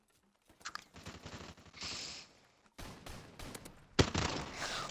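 Heavy gunfire from a large weapon in Call of Duty: Modern Warfare Remastered, sounding as loud, dense bursts of shots broken by brief gaps, with a sharp, strong report near the end.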